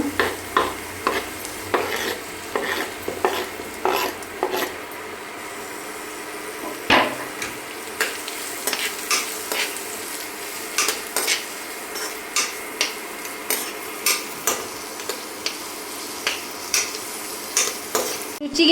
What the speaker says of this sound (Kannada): ಸಣ್ಣಗೆ ಹಚ್ಕೊಂಡಿರೋ ಒಂದು ಈರುಳ್ಳಿ ಹಾಕ್ಕೋಬೇಕು ಫ್ರೈ ಮಾಡ್ಕೋಬೇಕು